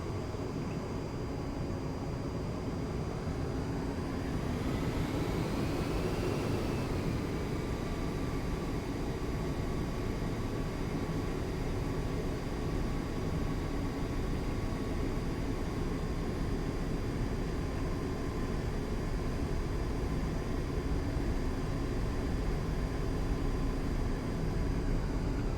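A-10C jet taxiing in the DCS flight simulator, a steady engine whine and hum with a rising, then settling pitch as throttle is added, heard alone at moderate level.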